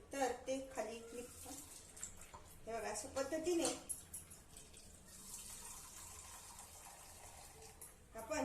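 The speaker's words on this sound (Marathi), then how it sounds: "आता आपण ते छान असं गाळून घेऊया म्हणजे त्यामधला जो नारळाचं जे दूध आहे" Ground coconut being strained by hand to press out coconut milk, with wet splashing and trickling liquid in uneven bursts, close by, while someone talks over it.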